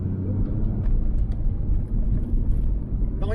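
A car accelerating hard up the world's steepest street in Dunedin, a loud sustained engine roar with steady low rumble and a few brief clicks, no speech.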